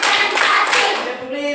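A classroom group claps in unison, a dense burst of many hands clapping together, loud and close, fading slightly toward the end as a voice begins.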